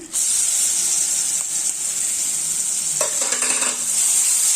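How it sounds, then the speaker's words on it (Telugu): Pounded tamarind-leaf chutney hits a hot tempering and sizzles loudly and continuously at close range, with a brief stirring scrape partway through and no voices. "ఇప్పుడు ఈ దంచి పెట్టుకున్న చింత చిగురు పచ్చడిని దీంట్లోకి వేస్తున్నా"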